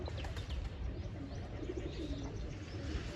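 Pigeons cooing near a netted loft, soft low throaty coos repeating over a dense, noisy outdoor background with faint chirps mixed in, no talking.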